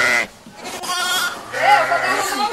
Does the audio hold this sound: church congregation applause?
no